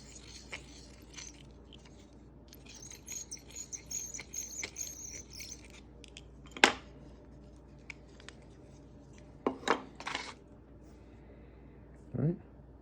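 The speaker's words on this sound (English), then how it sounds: "So now we're going to deburr where we cut the hole." Small scraping and clicking sounds from a deburring tool cleaning the edge of a hole drilled in a 1964 90% silver quarter. Faint rasping strokes run through the middle, with a few sharper brief scrapes later, close up and fairly quiet.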